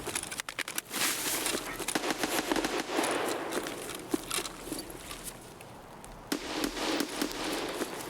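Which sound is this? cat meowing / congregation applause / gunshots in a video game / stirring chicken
gunshots in a video game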